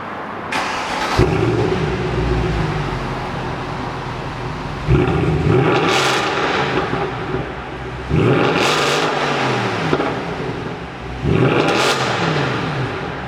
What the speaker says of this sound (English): Let's get some exhaust notes.